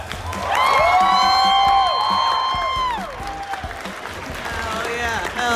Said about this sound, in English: let's clap for everybody who entered